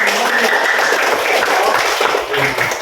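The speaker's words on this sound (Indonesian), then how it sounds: "Kita berikan tepuk tangan ya." Classroom applause for a student group after their discussion presentation, a steady dense patter of many hands clapping throughout, with faint murmuring voices mixed in.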